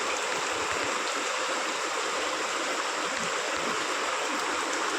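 Floodwater that has risen everywhere and swamped the area rushes in a steady, continuous broadband wash, close and unbroken, with no voices.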